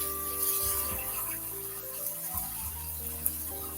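Kitchen tap water runs steadily and close by while an avocado is rinsed by hand, with soft rubbing under the continuous flow and no talk.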